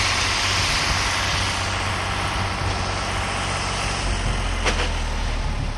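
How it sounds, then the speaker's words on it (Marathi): A farm tractor engine runs steadily, a loud continuous low rumble with a constant drone and no pauses, heard without speech. "ट्रॅक्टर"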